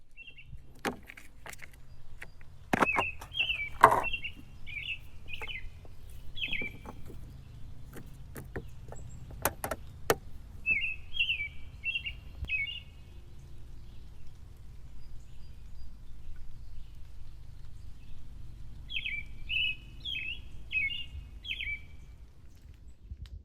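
Wild birds chirp in short trilling bursts near a suet feeder on a homestead, three separate clusters of bright calls over faint background noise and occasional clicks and knocks.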